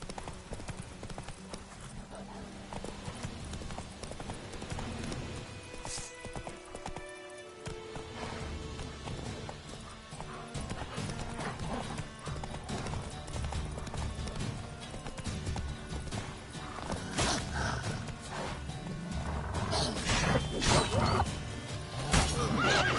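Roach the horse gallops in The Witcher 3, a steady run of hoofbeats with occasional whinnies, loud and close throughout and building toward the end.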